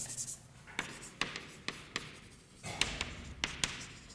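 Chalk or marker writing on a board during a set theory lecture: a series of sharp taps and scratchy strokes in an irregular rhythm, close and fairly clear, with no speech.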